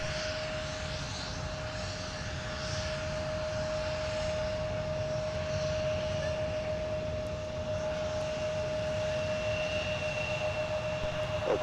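An airliner taxis at MSP airport, giving a steady distant engine drone with a sustained whining tone held evenly throughout, moderately faint.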